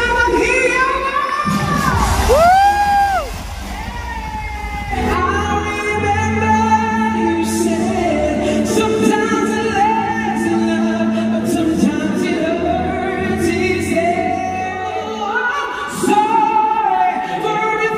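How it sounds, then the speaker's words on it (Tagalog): A large crowd at an indoor arena teacher's day celebration in the Philippines roars with shouting, screaming and cheering, loud and sustained throughout, with shrill voices rising above the dense noise. "Palakpakan na kasamang hiyaw mo!"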